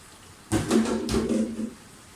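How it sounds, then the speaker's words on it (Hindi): Water poured into a hot pan of potatoes and fenugreek leaves on a home stove: a short splash and hiss that starts abruptly and fades after about a second. "थोड़ा सा मैं पानी भी डालूँगी।"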